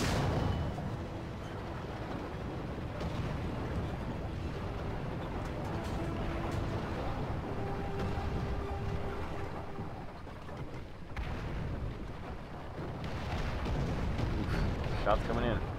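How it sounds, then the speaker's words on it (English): Incoming tank shells thud and explode in War Thunder around a 17pdr SP M10 Achilles, with dull, muffled booms rolling under a constant battlefield rumble. "Shots coming in."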